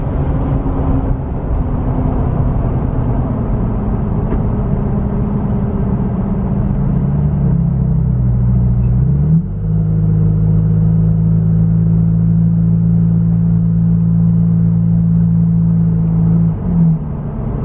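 A car engine drones steadily from inside the cabin while driving at around 50 to 60, then its pitch steps down as the car slows, a loud continuous rumble with no talking.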